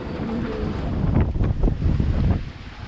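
Squall wind buffets a sailboat on an ocean crossing of the Pacific, roaring steadily against the microphone while water rushes and surges beneath in irregular swells.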